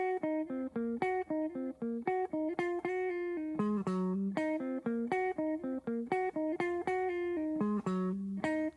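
A slow, looping pentatonic lick of single plucked notes on an electric guitar, each note ringing clearly with steady pauses between, no talking.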